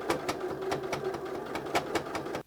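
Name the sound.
sewing machine backstitching a fabric potholder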